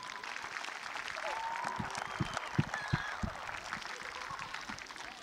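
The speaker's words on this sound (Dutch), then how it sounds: "Maar misschien is het wel zo netjes om even een groot applaus voor al deze sponsoren te geven." A youth football club kickoff evening crowd in Ermelo applauds the sponsors, a steady mass of clapping with a few louder claps and faint overlapping voices and whistles mixed in.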